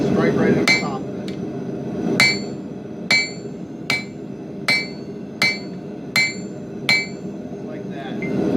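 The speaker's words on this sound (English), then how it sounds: "set it right on the edge of the anvil, and strike right at the top of it" Hammer blows on steel laid over the edge of an anvil while forging a Kabar-style knife blade, eight or so sharp ringing strikes at an even, unhurried pace over a low background hum.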